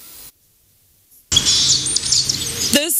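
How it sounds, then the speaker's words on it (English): Birds chirping and tweeting in a church playground, a bright, dense chorus starting abruptly after a near-silent gap and holding steady, fairly close and loud, with no talk over it. "The birds are taking over, making melodies"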